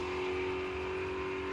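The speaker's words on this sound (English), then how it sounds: "Car launches well, over 95 reaction time, 165 to 60 feet" A Chevelle drag car roars off the line and pulls down the strip at Drag Week 2013, its engine a loud, sustained, steady drone that holds without a break.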